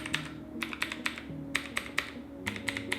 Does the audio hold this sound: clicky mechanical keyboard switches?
yes